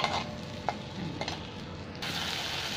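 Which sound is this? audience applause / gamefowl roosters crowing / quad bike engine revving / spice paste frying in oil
spice paste frying in oil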